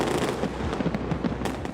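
Fireworks bursting above Melbourne's city skyscrapers during a New Year's Eve celebration, a dense continuous barrage of crackling booms and pops with no pauses, loud and sustained throughout.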